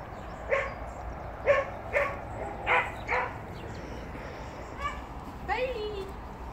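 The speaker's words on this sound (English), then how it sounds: "That's the next door neighbour's dog barking." A next-door neighbour's dog barks outdoors: five or six sharp barks in an uneven series at moderate distance, followed by a softer whine and yelp near the end.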